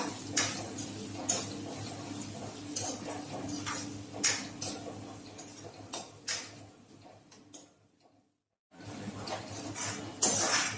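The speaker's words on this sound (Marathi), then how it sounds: "आता आपण हा कांदा परतून घेऊया" Finely chopped onion sautéed for a potato and onion bhaji: a quiet pan sizzle broken by repeated clinks and scrapes of a spoon stirring, with a brief silent gap near the end.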